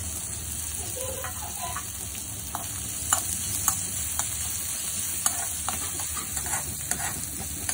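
Steady sizzling of onions frying in a pan, with occasional scraping clicks of a spatula stirring, no voices.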